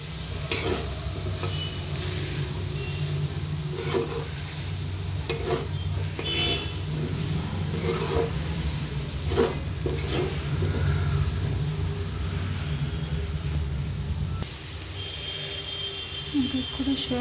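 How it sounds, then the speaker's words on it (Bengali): Spice paste and soybean chunks are stir-fried in a pan for an aloo potol curry, a steady sizzle with repeated scraping strokes of the spatula over a low hum and a voice speaking over it. "এটাকে খুব ভালো করে কষিয়ে নেব"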